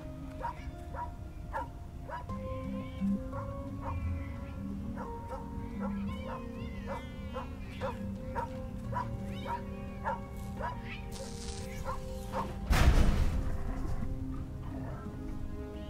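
Dogs bark and fight in the video game Tales of the Neon Sea, giving a steady run of short, evenly spaced yelps over background game music, and a sudden burst of noise comes near the end.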